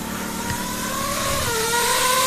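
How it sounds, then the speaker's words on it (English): A pneumatic air scribe used for preparing fossils runs steadily and loudly with a high, whining tone that shifts slightly in pitch, heard alone and close by throughout. "That's an air scribe. This is one of the tools that we use to prepare fossils."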